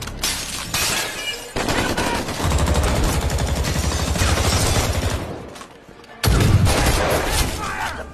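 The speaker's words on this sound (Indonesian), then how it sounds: "terus menggempur mereka dengan tembakan" Loud, dense bursts of gunfire fill the scene almost continuously, with a brief lull before a heavy blast of shots resumes.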